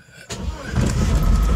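An MGB GT sports car engine cranks briefly and catches, then settles into a loud, close, rumbling idle.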